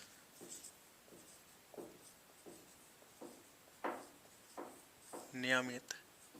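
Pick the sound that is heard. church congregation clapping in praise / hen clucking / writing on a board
writing on a board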